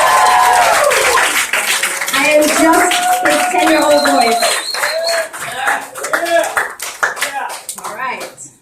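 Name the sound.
applause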